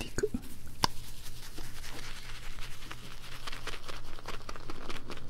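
A soft synthetic shaving brush whips up shaving foam in close, quiet detail, a continuous wet crackling and swishing with frothy bubbly texture and a few small taps at the start.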